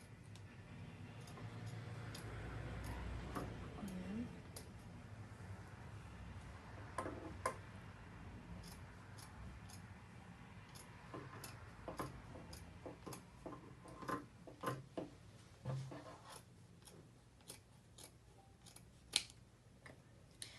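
Scissors snip through fabric being cut out for a wrap-around skirt, a faint quiet run of brief crisp clicks and snips that grows busier toward the end over a low room hum.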